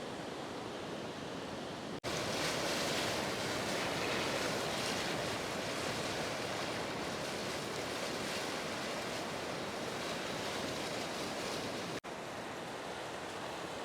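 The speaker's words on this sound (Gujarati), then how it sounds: "તો બહુ બધું પાણી આવ્યું છે નદીમાં" Loud, steady rush of churning water from a river in monsoon flood near Saputara, Dang, fills the whole stretch, a broad roaring wash with no pauses, close and continuous.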